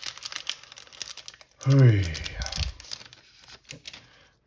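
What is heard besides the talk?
booster pack wrapper crinkling as it is opened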